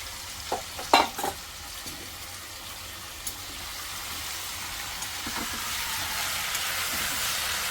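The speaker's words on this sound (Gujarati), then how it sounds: "તો આપણું આ જેટલું બધું છે મેરિનેટ કરેલું એમાં સોટે કરી નાખશું થોડું." Marinated paneer sautés in hot oil, a steady sizzle that swells louder and brighter over several seconds, with a few early clatters from the pan and no talking.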